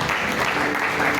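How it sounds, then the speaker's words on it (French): A church congregation applauding during a service: dense, continuous clapping from many people filling the space at steady loudness throughout, with faint voices mixed in. "Si tu as compris, tu acclames le Seigneur très fort."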